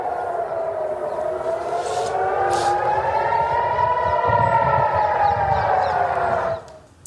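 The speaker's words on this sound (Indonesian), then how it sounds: "Sirine terdengar meraung saat Israel dan Iran saling melancarkan serangan untuk" Civil defense air raid sirens wail over Jerusalem, one long rising-and-falling tone that holds loud and steady for about six seconds before cutting off abruptly near the end, with no voices.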